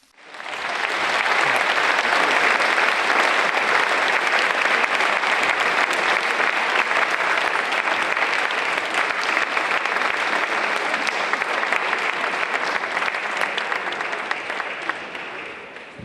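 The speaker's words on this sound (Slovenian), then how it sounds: "Že prihajajo, dajmo en aplavz." Sustained, dense applause from an audience greeting a vocal group at a charity concert, starting abruptly and holding strong for about sixteen seconds before easing slightly at the end.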